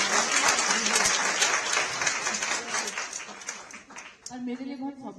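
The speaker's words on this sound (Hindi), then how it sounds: "तो जरा जोरदार तालियां उस पीढ़ी" An audience at an International Women's Day address claps together, a steady burst of applause that fades toward the end as a speaker's voice returns.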